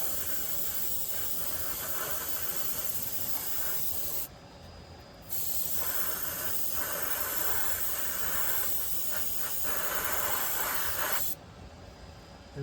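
Airbrush spraying weathering paint onto a Hornby OO gauge model wagon, a steady close hiss that runs continuously, cutting briefly twice and then resuming.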